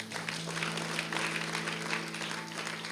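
Easter worship congregation applauding for God, a full, steady round of clapping from many people over a sustained low hum of music.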